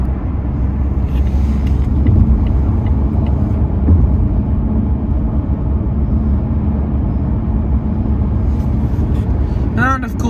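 A car drives along the M5 motorway, passing heavy goods vehicles, with a steady loud rumble of engine and road noise continuing throughout under a speaking voice.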